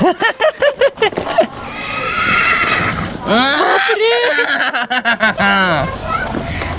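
A horse whinnies loudly and close by during a riding outing, its neigh rising and falling in long shaky calls, with people talking and laughing around it.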